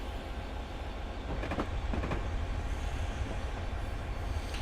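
Class 66 diesel locomotive hauling a train on the Settle to Carlisle line, a steady broad rumble of engine and wheels that holds loud and even throughout, with brief rail clatter in the middle.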